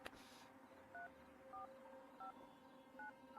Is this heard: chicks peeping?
no